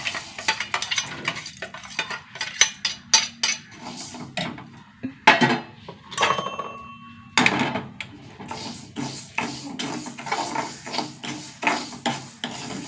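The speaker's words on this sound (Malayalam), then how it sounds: "ചെറുപരിപ്പൊന്ന് വറുത്തെടുക്കാം കേട്ടോ" Split moong dal dry-roasting in a pan, with repeated close scraping and rattling of a spoon stirring against the metal, in uneven bursts throughout.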